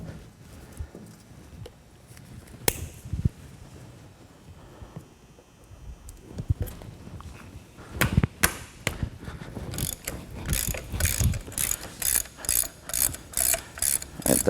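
Metal clicks and scrapes as cotter pins are pulled from the axle nut and brake drum arm of a Kawasaki KLX 110 dirt bike's rear brake, quiet at first, then a run of quick tool taps and rattles.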